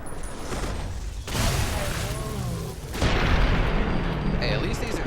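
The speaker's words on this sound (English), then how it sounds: "Hey, at least these explosions are working." Explosions in the video game Fallout: New Vegas, heavy booming blasts with rumbling debris, two big hits roughly two seconds apart over continuous noisy game sound.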